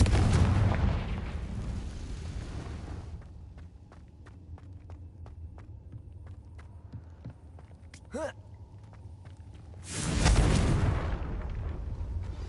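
A fiery Confringo spell erupts in Hogwarts Legacy with a loud blast at the start and another about two-thirds through, with light footsteps and small taps in the quieter stretch between.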